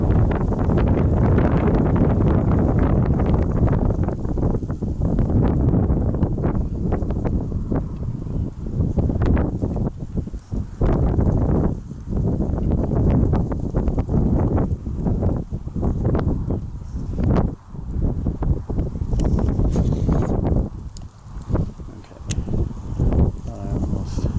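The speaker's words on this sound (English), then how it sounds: "of course the wind picks up now" Gusty wind blowing outdoors during a fishing trip, a loud steady rumble battering the microphone with brief dips, heard alone without talk.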